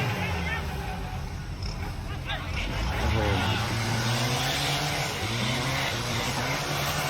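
A 4x4 off-road race car is driven hard at the Khanom Offroad International event, its engine revving and straining at a distance beneath a loud, continuous commentator voice and crowd noise.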